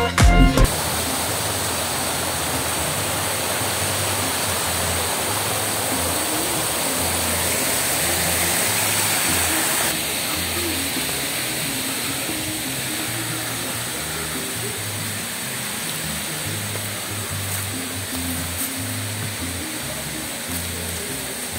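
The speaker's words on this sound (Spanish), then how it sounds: "justo al lado de los kioscos pasa la quebrada, trayendo una suave brisa y relajante sonido del agua" A mountain stream flows right beside the kiosks of a riverside resort in Rovira, Colombia, giving a steady, loud, close rushing of water that runs unbroken without voices.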